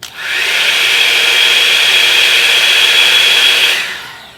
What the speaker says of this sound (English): this is the Revlon Original on high, and this is the Revlon Plus on high